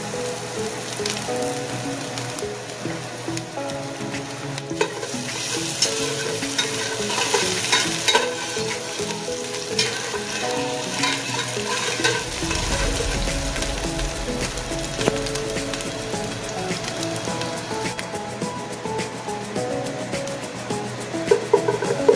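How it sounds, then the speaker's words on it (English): Strips of ginger sautéing in a pan for a chicken curry, a continuous sizzle broken by repeated scraping and stirring sounds, with a brief low thump midway and no voices. "Then I'm adding in cut up strips of ginger first and saute it."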